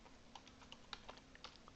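Typing on a computer keyboard while entering text in Photoshop Elements, a quiet run of irregular, close clicky keystrokes with no speech.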